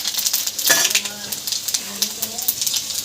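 Panch phoron spices sizzle in hot oil for Bengali jhinge chabra ghonto, a ridge gourd curry, giving a brief, steady crackling hiss with one louder burst near the start.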